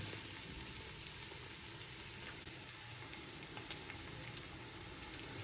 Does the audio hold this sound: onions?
yes